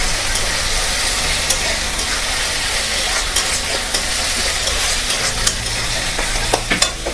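Chicken with ginger-garlic paste sizzles steadily in a pan while a utensil stirs it, scraping and clinking now and then, and a low hum sits underneath throughout.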